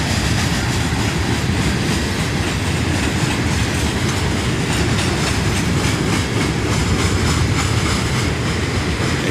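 A Norfolk Southern local freight train led by a GP60 locomotive rolls past close by, with a loud, steady rumble and the continuous clatter of railcars throughout, and no voices.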